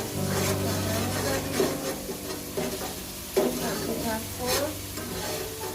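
Turmeric and spices tossed into spicy noodles frying in a pan give a steady close sizzle, with repeated scraping stir strokes and a few sharper clinks from the utensil.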